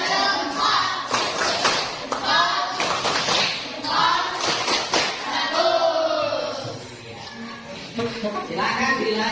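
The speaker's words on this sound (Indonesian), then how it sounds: "Coba kita sekarang lakukan tepuk semangat dulu" A class of students performs a rhythmic spirit clap in a school lesson, sharp clustered hand claps in bursts mixed with children's voices chanting along, loud and close.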